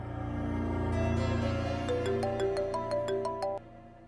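A phone ringtone plays a short electronic melody of rising stepped tones over a steady low hum, fairly quiet and alone, stopping abruptly near the end.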